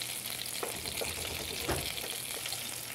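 Fish frying in a pan for a fish curry, a steady close sizzle and crackle of hot oil with a brief stir or shift of the pieces partway through.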